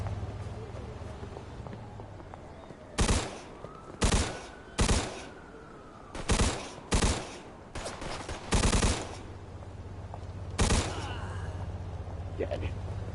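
Automatic weapons fire in a Mafia 2 shootout with police officers: about eight loud, sharp bursts spread across the clip, some in quick pairs, over a steady low hum.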